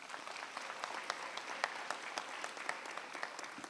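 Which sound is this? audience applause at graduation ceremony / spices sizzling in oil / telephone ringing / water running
audience applause at graduation ceremony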